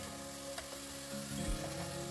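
Spices and onions sizzle as they fry in a pan, a steady, quiet hiss with a few faint stirring scrapes and no voices.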